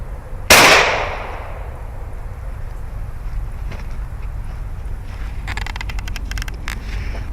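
A single loud, sharp 9mm gunshot, a 124-grain V-Crown hollow point fired at a welding hood, cracks outdoors near the start and decays over steady background noise, followed later by faint rattling clicks.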